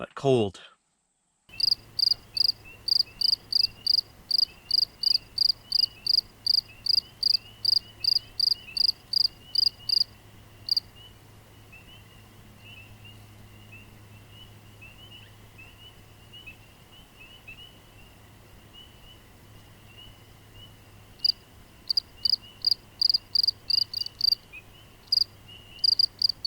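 Crickets chirp in an open field at night, a steady fast pulsing trill that stops in the middle and then resumes, over a low background hum, with a brief bit of speech at the start.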